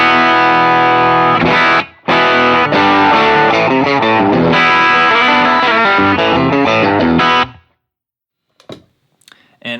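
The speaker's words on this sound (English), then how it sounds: "it's a super touch sensitive drive" An electric guitar plays a run of strummed chords and riffs through a touch-sensitive overdrive pedal, loud and crunchy, stopping suddenly and followed by a few faint string noises.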